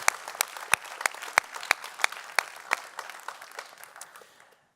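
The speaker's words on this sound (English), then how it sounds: "Yeah, it deserves some applause." Conference audience at a climate and sustainable cities event applauds, a modest round of distinct claps with a few sharp, evenly spaced strikes standing out, fading away over about four seconds.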